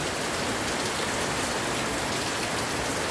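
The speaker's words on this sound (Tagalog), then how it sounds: "napakalakas po ng ulan" Very heavy rain pours steadily and loudly at a rest house, a dense unbroken roar of water with no other sounds.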